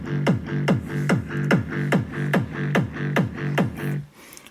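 A big room EDM kick thumping in a steady four-on-the-floor beat, locked with a rolling loop bass in G, about ten evenly spaced punchy hits, loud and alone, cutting off near the end.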